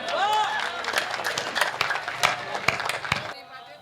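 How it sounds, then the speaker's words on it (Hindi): An audience at a Hindi comic poetry gathering breaks into applause, brisk scattered claps rising and falling over about three seconds before stopping abruptly. "जोरदार तालियों से अभिनंदन कर लीजिए"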